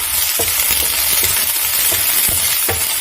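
Onions fry in a pan for a pasta sauce, giving a steady, loud sizzle throughout with a few scraping stirs of a utensil against the pan and no talking.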